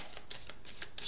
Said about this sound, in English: shuffle so we have some card at the bottom that isn't what it was before